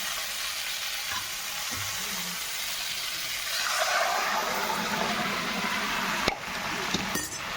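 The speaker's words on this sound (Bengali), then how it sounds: "এই যে আমি ডালটা ফোড়ন দিয়ে দিলাম" Hot spice tempering added to moong dal cooked with cauliflower gives a steady close sizzle that swells louder midway, with a couple of sharp clinks near the end and no talking.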